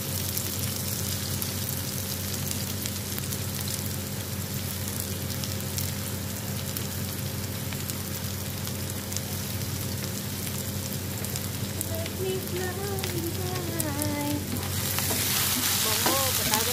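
Garlic and onion sizzle steadily in a small amount of cooking oil, a close, continuous frying crackle that grows a little louder toward the end with no talk over it.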